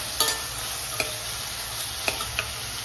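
Onion, tomato and green chillies sauté in oil, a steady close sizzle broken by a few crisp spatula taps and scrapes against the pan.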